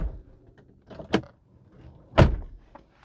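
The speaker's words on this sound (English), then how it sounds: "Now let me just close the door." Door thuds inside a Land Rover Discovery 4 3.0 TDV6 HSE: a sharp close near the middle and a heavier, louder slam toward the end, with faint handling rustles between and no speech.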